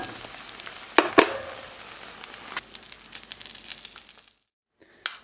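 Eggs fry in a pan with a close, crackling sizzle and a few sharp pops before the sound cuts off abruptly near the end.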